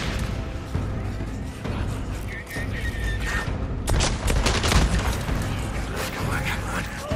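Gunfire against a zombie horde in Days Gone, a dense run of overlapping loud shots and booms that carries through the whole stretch, with a voice talking over the shooting.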